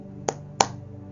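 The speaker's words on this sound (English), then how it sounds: "as simple as clapping your hands, 1, 2" Two sharp hand claps, evenly spaced, close and dry against a quiet background with no other sounds.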